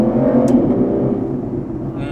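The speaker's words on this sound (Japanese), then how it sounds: "やっぱ12気筒の太い音ですよ。 シートチェンジした時の音いいですね。" Aston Martin Rapide S V12 engine with Touchtronic gearbox, a thick loud low drone heard from inside the car around a gear change, steady throughout.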